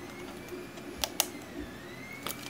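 A large DIY 3D printer running its axes, faint steady whirring of stepper motors with a few sharp clicks and ticks, heard close and alone.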